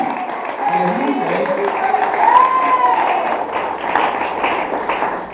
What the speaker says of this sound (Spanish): Den un aplauso al que sí